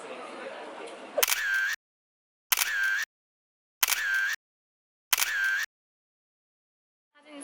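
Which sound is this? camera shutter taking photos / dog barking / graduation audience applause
camera shutter taking photos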